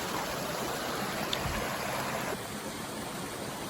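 Water rushes steadily in a brook in the Smoky Mountains along the Appalachian Trail, a constant close gushing flow with no speech.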